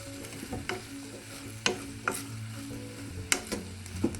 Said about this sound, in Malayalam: ഉള്ളിയൊക്കെ നന്നായി വരട്ടെ